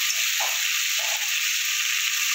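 Potatoes with salt and a little turmeric frying in mustard oil in a kadai, giving a steady, loud, continuous sizzle and hiss throughout with no voices.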